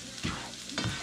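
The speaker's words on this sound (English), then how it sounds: "Just gonna scramble these eggs." Eggs being scrambled in a pan, with two quick scraping spatula strokes over a soft sizzle in a short close burst.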